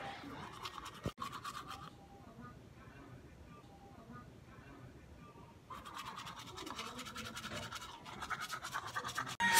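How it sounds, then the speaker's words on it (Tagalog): A toothbrush scrubs rapidly against teeth in close, rhythmic strokes that pause briefly in the middle and then resume more vigorously. "toothbrush muna tayo."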